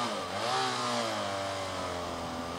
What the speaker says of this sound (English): my bike is not intimidating when I rev it. It's not loud.